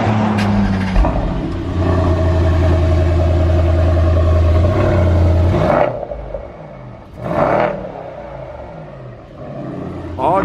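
A Mercedes-AMG estate car engine revs hard with its exhaust valves open, a loud sustained rumble that rises then cuts off near six seconds, followed by a shorter blip and a quieter idle with the valves closed.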